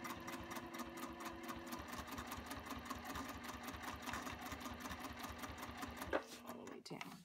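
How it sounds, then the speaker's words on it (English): A sewing machine stitches in a fast, even mechanical patter close by, running steadily for about six seconds before stopping, with a soft voice speaking over it. "I'm going to do one more stitch here"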